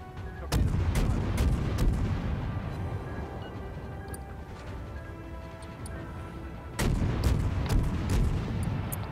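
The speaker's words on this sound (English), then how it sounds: "I might as well start shooting at him" Naval gunfire from the cruiser IJN Tenryu in World of Warships: heavy booming salvos, with two loud volleys separated by a long rumbling tail, close and dominant.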